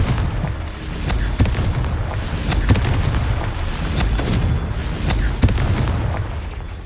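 Confringo blasting-spell explosions in Hogwarts Legacy burst in a rapid irregular series of booms and pops over a rumbling low backdrop, loud and close.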